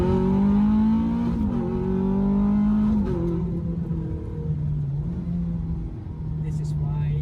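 Ferrari F430 engine revving hard while drifting, a loud continuous roar with rising and falling pitch that stays close and steady throughout, with a brief dip near the end.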